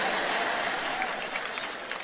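Audience applause at a Christian teaching event with a speaker onstage; a steady wash of distant clapping carries through the full two seconds, fairly even and moderately loud.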